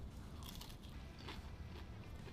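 Crispy cheesy chicken appetizer from a griddle bitten into, a few close crunches and chewing sounds over a low background hiss, no talking.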